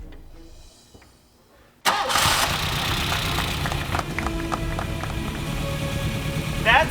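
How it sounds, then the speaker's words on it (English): A car engine with rust and glitter inside cranks and catches abruptly after a quiet moment, then settles into a rough, uneven idle with scattered knocks and rattles. "I think that'll be able to start the car"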